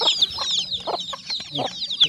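Free-range village chickens cluck in short, uneven bursts while being fed unhusked rice in the evening, close by and fairly loud, with higher chirps from several birds overlapping.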